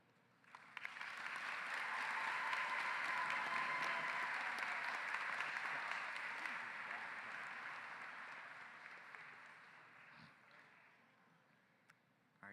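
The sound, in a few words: audience applause at a high school graduation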